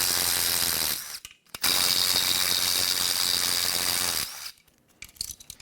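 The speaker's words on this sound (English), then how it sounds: "we're going to get those two external Torx bolts" Ratchet rapidly spinning out external Torx bolts from the cam gear of a BMW M5 S63Tu twin-turbo V8 during teardown, two loud close bursts of dense clicking, the second long and steady.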